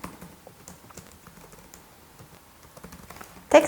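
Computer keyboard typing while writing web programming code, a steady patter of light key clicks at close range, ending in a louder burst of keystrokes, with no voices.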